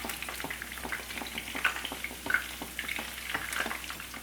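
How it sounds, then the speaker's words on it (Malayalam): Chicken pieces for chilli chicken frying in hot oil in a pan, a dense steady crackling sizzle with occasional louder pops and spatters, close up and continuous throughout. "തിരിച്ച് മറിച്ചിട്ടിട്ട് തന്നെ നമുക്കിതൊന്ന് ഫ്രൈ ചെയ്തെടുക്കാം കേട്ടോ"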